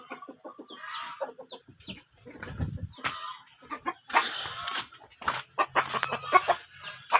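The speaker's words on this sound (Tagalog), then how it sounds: "Ayan na po ang manok." Chickens at a backyard poultry yard cluck in short, irregular bursts, some close and loud, others fainter, with scattered rustling between calls.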